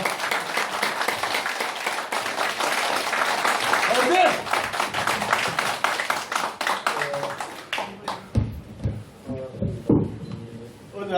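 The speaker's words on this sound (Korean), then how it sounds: "여러분 큰 박수로 맞이해주시기 바랍니다" An audience in a hall welcomes a speaker with a dense burst of applause that fades after several seconds, giving way to scattered claps and people talking.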